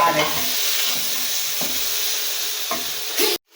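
Chopped tomatoes sauté in a pan with chilli, ginger and garlic, giving a constant close hissing sizzle with a few soft stirring scrapes before it cuts off abruptly at the end.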